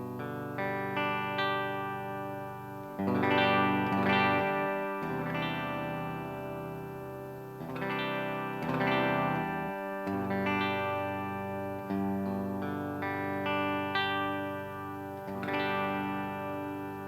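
Electric guitar, a budget Les Paul copy played through the bridge pickup, rings out bright chords with effects and slight distortion, struck in repeated strums roughly every few seconds, each sustaining and decaying, with no talking.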